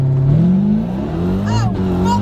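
A Dodge Hellcat four-door sedan revs hard at launch, its engine note climbing loud and close in a steady roar that pitches upward, with a brief higher whine near the end.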